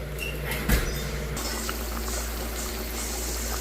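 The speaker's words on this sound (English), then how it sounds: "the pork chops are frying" Floured pork chops fry in a pan of hot oil for a home family dinner, giving a steady, close sizzle that stays even throughout, with a brief louder knock or clatter near the start.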